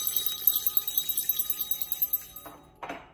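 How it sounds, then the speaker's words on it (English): A small bell rings in a quick, steady string of bright strikes for about two seconds. Its high shimmering tone then fades out, followed by a couple of soft handling sounds. "I'm going to cleanse this energy with the bell."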